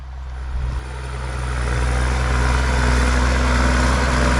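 A tractor engine running while ploughing a field, heard as a loud, close, continuous low drone that grows gradually louder and stays steady, with no talking.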